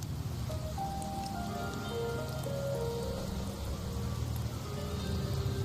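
Steady rain patters on surfaces in the video game Wuthering Waves, a dense, even hiss of drops with faint tonal game sounds drifting underneath and no speech.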